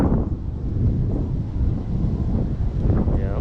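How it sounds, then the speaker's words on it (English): Steady, heavy wind buffeting a microphone in a farm field, a constant low rumble with gusty swells and no pauses. "It's super windy"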